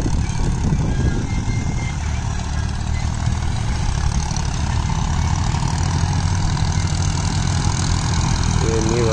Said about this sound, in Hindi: ये न्यू हॉलैंड 3630।